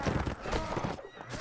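A horse whinnies amid clip-clopping hooves in the game Mount & Blade: Warband, close and fairly loud against a busy battlefield background.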